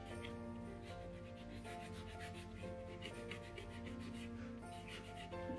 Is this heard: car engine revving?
no